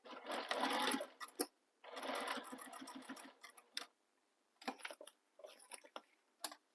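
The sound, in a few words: sewing machine stitching a crossbody bag seam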